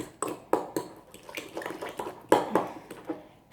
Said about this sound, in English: Smash it up really well. Give it a stir.